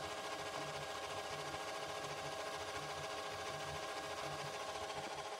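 A steady mechanical whirring and rhythmic chugging from an Epson EcoTank inkjet printer charging its ink runs continuously, moderately loud with a repeating pulse throughout, no voices.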